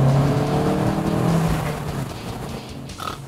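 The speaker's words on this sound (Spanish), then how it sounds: "continúa teniendo ese sonido característico el motor" An Abarth 500 C SS with its top down, engine droning steadily at cruising revs with some road and wind noise, then easing off and fading slightly toward the end.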